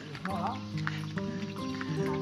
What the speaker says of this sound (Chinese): 毛驴车，